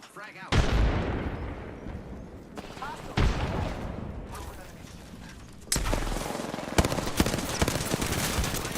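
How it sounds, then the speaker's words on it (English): Gunfire and grenade blasts in a video game: several sharp bursts of shots and explosions strike at intervals, with a dense, steady barrage of gunfire through the final seconds. "Look out, grenade."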